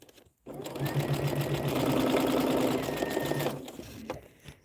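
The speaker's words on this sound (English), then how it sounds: "I am just hanging out, sewing stitch and flip corners" Sewing machine stitching stitch-and-flip corners for a scrappy star quilt, a steady motor whir with rapid needle rhythm running for about three seconds, then stopping.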